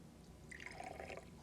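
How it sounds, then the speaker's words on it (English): Water tinted with red food coloring is poured into a glass, making a short, soft, close trickle that lasts under a second in a quiet room. "And now let's add our water to the glass."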